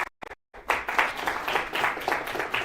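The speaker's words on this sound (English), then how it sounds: "let's give them a round of applause" Audience applause for prize winners at a science prize ceremony, a burst of clapping that starts after a brief pause and continues steadily at moderate loudness for a couple of seconds.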